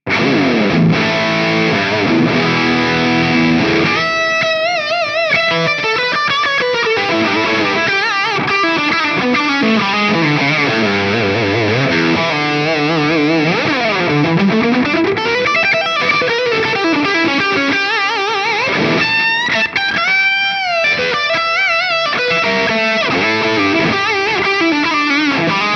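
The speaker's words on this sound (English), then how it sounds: "I'm just going to stick on mix side of the D&M drive as well, so we can hear a more high gain sort of sound" A high-gain electric guitar plays continuously through a Hamstead Artist 60+RT amp with a D&M drive pushed into heavy distortion and a looped delay, giving a thick, saturated sound with sustained, shifting notes and no talking.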